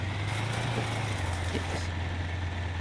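In the survival game Humanitz, a car engine starts and settles into a steady low idle hum, loud and continuous, with a brief brighter rise early on and no talking.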